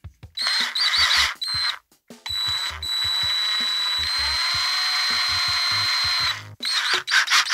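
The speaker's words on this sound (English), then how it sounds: "I'm going to get the pilot hole started with this little guy." A small power drill drilling a pilot hole in a guitar whirs in several short bursts, then runs steadily for a few seconds with a high whine before stopping and starting again.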